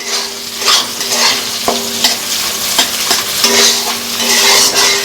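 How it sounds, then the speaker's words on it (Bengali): Chopped onions fry with panch phoron in a pan, a loud, close, continuous sizzle with repeated scraping strokes of a spatula stirring at an uneven rhythm, no voices over it. "কুচানো পেঁয়াজের ভাজা গন্ধটা কেমন লাগে"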